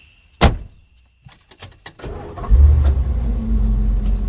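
A car door slams sharply, followed by a few quick clicks and knocks, then the engine starts and settles into a loud, steady idle rumble.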